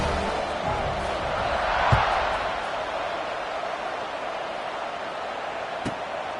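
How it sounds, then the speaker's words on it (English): A football stadium crowd keeps up a steady, dense roar after a touchdown, the broad noise swelling slightly at one point with a couple of faint thuds. "this crowd is buzzing after that last score"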